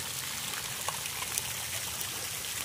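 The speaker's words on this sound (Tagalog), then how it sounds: "gumagana yung fountain nila o" A kids' water fountain at Camyflor Garden Resort runs with a steady, fairly faint splashing and trickling wash of water, continuous and heard without talking.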